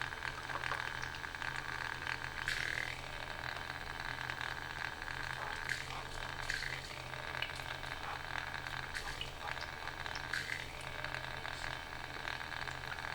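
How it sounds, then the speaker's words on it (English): A noisy PC water-cooling pump runs steadily in a computer, giving a constant hissing, bubbling whir at moderate level with faint periodic chirps over the top and no talking. "It is a quite noisy pump."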